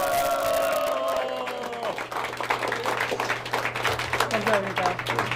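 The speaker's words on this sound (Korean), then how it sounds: "지금 이제 박수가 나오고 있나 한번 들어보겠습니다" Applause and crowd noise at an election campaign camp awaiting a candidate, clapping and cheering swelling in the second half after a voice-like tone at the start.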